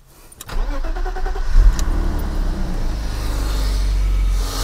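A BMW with a faulty engine that was low on coolant cranks over and catches, then settles into a loud, deep, steady idle as it warms up, close by with no voices.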